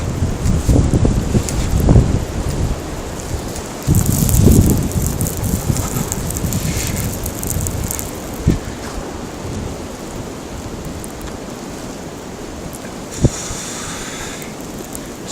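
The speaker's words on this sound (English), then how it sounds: "snow just blowing. Winds are up to 60 miles an hour. Hurricane force, except with some snow too." Blizzard wind gusting up to 60 miles an hour drives snow along an empty street at night, roaring in loud broadband bursts that buffet the microphone, with a brief sharp knock near the end.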